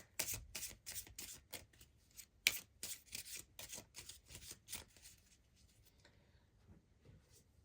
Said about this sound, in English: let's get you a couple of witchling cards here.